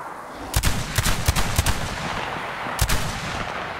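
A gun fires in Metro Exodus as a quick burst of sharp, loud shots, about five in close succession, then a pause before two more cracks, set against a steady background hiss.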